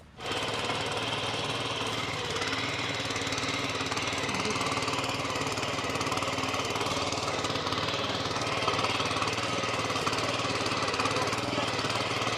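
An S Raja power tiller engine runs steadily and loudly throughout, a dense, unbroken mechanical drone with a rapid knocking rhythm and no speech.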